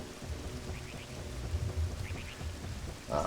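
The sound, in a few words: rain in the video game Ocarina of Time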